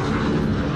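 A VTOL aircraft killstreak in Call of Duty Modern Warfare, a dense, loud broadband engine roar with a rumbling low end that sustains without a break over a brief moment.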